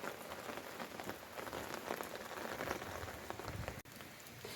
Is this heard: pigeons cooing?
no